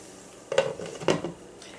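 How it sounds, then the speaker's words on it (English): Two quick metallic clanks of a lid set back onto a copper pan, over a faint sizzle in a quiet kitchen. "I'm going to put my lid back on it."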